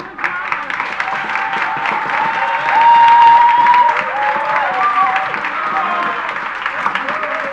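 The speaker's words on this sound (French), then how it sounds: "Je voudrais que vous applaudissiez ce jeune comédien qui a bien voulu nous rejoindre" Audience applause and cheering for a young actor after a theatre performance, clapping swelling in the middle with shouts and voices mixed throughout.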